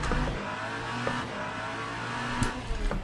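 A racing car engine roars steadily in the video game Le Mans Ultimate, with a brief tyre screech as the brakes lock, continuous and loud throughout.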